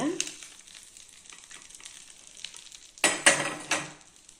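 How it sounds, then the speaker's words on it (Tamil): A tempering of mustard seeds, curry leaves and small chillies for groundnut chutney, a faint crackle that swells to a sharp burst of sizzling and pan clatter near the end. "கடுகு பொரிஞ்சிச்சுங்க ஒரு கொத்து கருவேப்பிலை ரெண்டு குட்டி மிளகாய் நிறுத்திடலாங்க கொட்டிக்கலாங்க"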